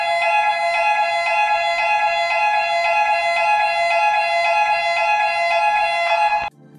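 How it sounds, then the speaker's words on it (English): A loud, continuous electronic swimming pool drowning alarm tone holds a steady pitch for several seconds, then cuts off abruptly. "The first one is the drowning alarm,"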